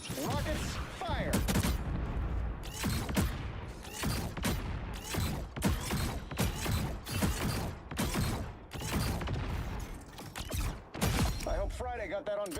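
Rapid bursts of rocket and gunfire fire from a video game in a dense, loud barrage of repeated blasts with mechanical clanks, continuing for about twelve seconds.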